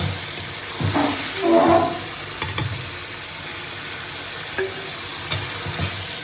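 Cauliflower curry with fried eggplant and vegetable stalks sizzles steadily in a pan while a spoon scrapes and stirs it in short strokes. The sound is close and there is no talking.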